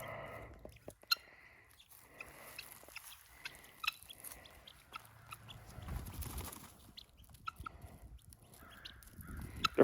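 Farm birds on a rural property give scattered, fairly faint calls and caws, with soft pecking and rustling noises close by and no talking.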